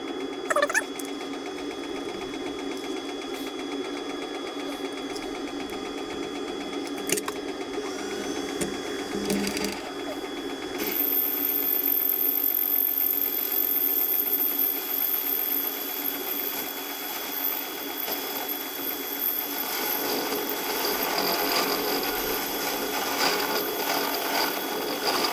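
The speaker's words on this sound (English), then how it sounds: "So it spins round and opens a hole up to a different size." A milling machine spins a boring bar to open up a hole in a home garage workshop, giving a steady whirring, humming machine tone that runs for the whole stretch and gets a little louder partway through.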